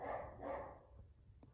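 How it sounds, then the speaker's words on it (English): Several dogs bark in two loud bursts early on, then fade to quieter sounds, heard indoors during a paper craft session. "my dogs are going crazy"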